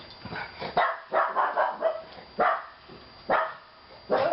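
A dog barks repeatedly indoors near a dog door, a series of sharp, loud, close barks in an uneven rhythm, with some voices underneath.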